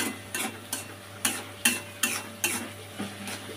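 Onions frying with salt for egg bhurji, stirred with a spoon in a pan: regular scraping strokes about every half second over a soft continuous sizzle, close by.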